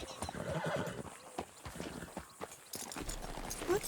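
In Red Dead Redemption 2, a horse's hooves clip-clop at a walking rhythm and the horse gives a neigh near the end, mixed with other quiet game sounds and faint, soft voices.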